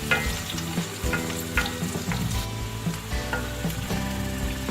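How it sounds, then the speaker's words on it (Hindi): Chopped onions frying in a pan until soft, for daal chana with karela, give a steady close sizzle broken by repeated clinks and scrapes of stirring, with no voices. "प्याज को हम सॉफ्ट होने तक भूनेंगे"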